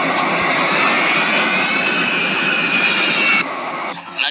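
A steady roar of an airplane passing overhead, loud and continuous for most of the span, then dropping off near the end.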